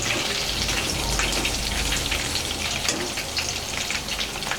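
Soya chunks deep-frying in hot oil make a dense, loud, crackling bubble that patters steadily like heavy rain throughout.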